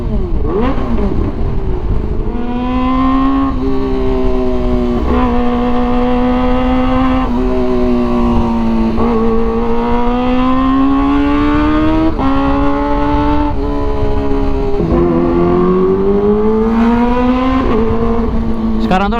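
A modified Kawasaki ZX-25R motorcycle engine revs hard and close, rising and falling in repeated throttle blips over a continuous loud roar.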